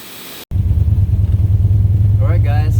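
A warmed-up 1969 Pontiac GTO engine, just repaired for an exhaust leak, rumbles in a steady, loud, deep idle close by after an abrupt start, with a few faint chirps near the end.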